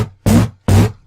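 Synth bass patch in Serum with an LFO modulating its drive, two loud, gritty buzzing notes of equal length separated by a short gap, each cutting off abruptly, played alone.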